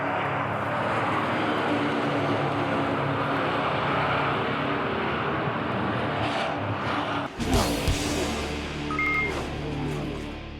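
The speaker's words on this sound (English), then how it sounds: "Aussie Josh Burden goes past Goupy on the inside in the hairpin to take second place" NASCAR Euro race cars roar around the Dijon circuit, a dense continuous engine drone from the pack with a sharp burst as cars pass close by, then the roar carries on.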